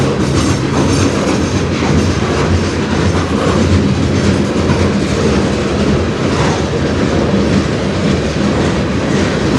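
A CN freight train rolls slowly past on the Strathroy Subdivision, a loud, continuous close-up rumble of wheels and cars with rhythmic clickety-clack over the rails and no talking.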